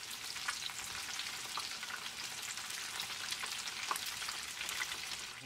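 Tofu squares frying in a pan make a steady, dense sizzle with crackling pops throughout, fairly close and continuous, with no talking over it.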